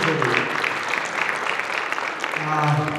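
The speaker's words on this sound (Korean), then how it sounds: "이럴 때 박수를 주세요." Audience applause at the launch ceremony of the Chungcheong regional union, a steady dense patter of clapping with voices mixed in underneath, continuing evenly to the end.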